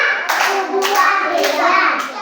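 A group claps hands in a steady rhythm while children's voices chant along, loud and close throughout.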